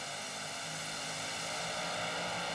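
A super modified pulling tractor's engine roars loud and unbroken during a pulling run at Lucas Oil Speedway, a dense sustained drone with no voices.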